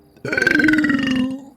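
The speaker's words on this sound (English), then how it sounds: "That was a nice burp, actually." A single loud, close burp rumbles out for about a second after a brief pause, then trails off.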